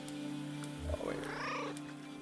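A cat in the Kentucky Route Zero video game gives one short meow in the middle, quiet over a low, steady electronic hum.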